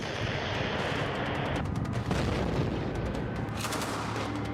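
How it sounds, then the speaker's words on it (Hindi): Continuous barrage of gunfire and missile launcher fire with tanks in war footage, a dense unbroken roar of blasts and rumble with no talking. "टैंक आग उगल रहे हैं, मिसाइल लॉन्चर से फायरिंग हो रही है।"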